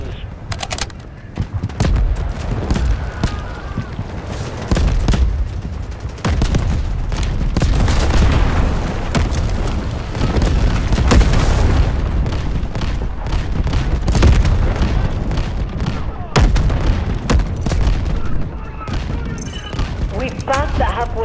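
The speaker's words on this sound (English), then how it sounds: "Incoming artillery, destroy the enemy." Incoming artillery in a Delta Force large-scale PvP battle: loud, dense barrages of booming explosions and rattling gunfire crash repeatedly over twenty seconds, close and overlapping, with occasional voices buried in the din.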